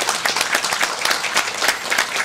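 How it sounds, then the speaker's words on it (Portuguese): Audience applause fills a hall at a gaucho accordion-player event in Medianeira, a dense, steady wash of many hands clapping at close range for the full stretch with no voices. "Eu quero que ele levante aqui para receber o aplauso de vocês"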